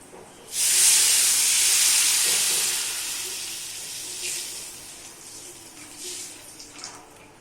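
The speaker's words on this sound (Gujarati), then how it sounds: "હવે આપણે એમાં પાણી નાખવાનું" Water hits hot oil and masala with a sudden loud hiss that rushes up, then slowly fades into softer steamy sizzling, while making Maggi noodles.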